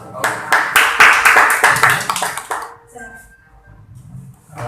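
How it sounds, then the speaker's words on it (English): Audience applause at a live English talk event, a quick burst of dense clapping for about two and a half seconds that then dies away into near quiet. "Please, huge round of applause, please."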